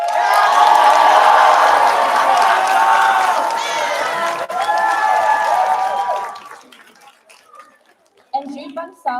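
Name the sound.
audience applause for the actors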